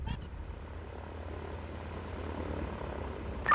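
A steady low rotor and engine drone of a UH-60 Black Hawk helicopter, fairly constant and moderately loud, with brief noise bursts at the start and end.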